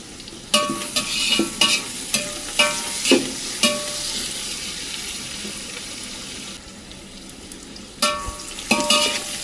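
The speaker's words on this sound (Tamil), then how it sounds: "வெங்காயம் நல்லா வறுந்து வரட்டும், பொன்னிறமாக ஆகட்டும்." Onions frying in a pan for Ambur mutton biryani made with basmati rice, a constant sizzle broken by repeated sharp stirring scrapes and clanks of a ladle against the pan, close and without talk.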